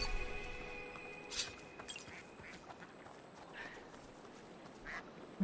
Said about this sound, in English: there's a scenic spot here where we can watch the ducks